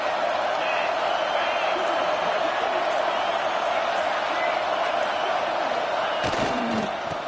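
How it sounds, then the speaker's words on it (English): A football stadium crowd roars and cheers steadily throughout, a dense, continuous wall of noise with a slight swell near the end. "They challenge this crowd to bring the energy, and I'd say they're doing that."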